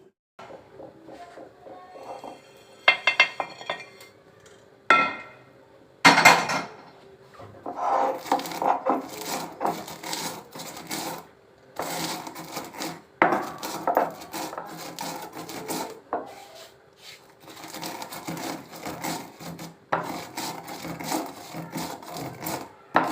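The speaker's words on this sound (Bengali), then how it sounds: "তারপর এটাকে আমি শিল নোড়ায় গুঁড়ো করে মশলাটা রেডি করে রাখি" Roasted spices being ground by hand on a traditional shil nora grinding stone for amla pickle masala, giving repeated close rasping and rubbing strokes of stone on stone in irregular bursts, with no talking.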